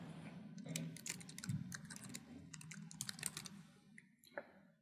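Typing on a computer keyboard, quick irregular bursts of close, soft key clicks with short pauses between them, over a faint low room hum.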